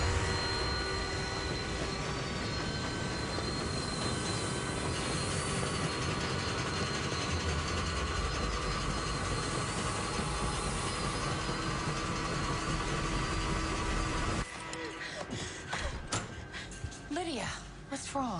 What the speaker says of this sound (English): It was the sound of a train passing through my room.